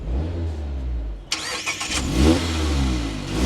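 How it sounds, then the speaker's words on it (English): A 181-horsepower Mazda Miata engine cranks and fires up abruptly partway through, then settles into a rough rising idle; close and fairly loud. "Now with my foot on the brake and the clutch, we can fire this up."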